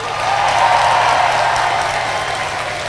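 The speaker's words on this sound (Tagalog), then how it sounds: "Para kay Presidente Bongbong Marcos. Palakpak!" A crowd claps loudly for President Bongbong Marcos at a political rally, a dense, steady wash of applause holding for the full three seconds with no break.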